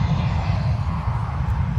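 A Ryanair jet departs Dublin Airport, its engines a continuous low-pitched rumble heard at a distance in a short stretch with no voices.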